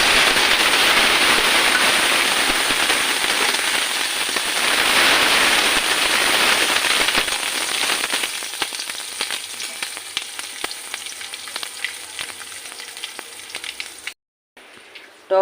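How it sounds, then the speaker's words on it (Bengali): Dried chillies, black mustard seeds, green chillies and curry leaves temper in a little leftover eggplant-frying oil, a loud dense sizzle with sharp popping crackles that thins out and fades before a brief cut. "অল্প তেলে এবার শুকনো লঙ্কা, কালো সর্ষে, কাঁচা লঙ্কা আর কারি পাতা ফোড়ন দেবো।"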